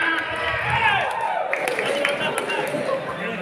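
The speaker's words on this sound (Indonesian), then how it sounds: "Tepuk tangan dulu untuk Isa" A meeting audience claps together, a dense patter of applause filling the room, loud and close and fairly even, lasting a few seconds.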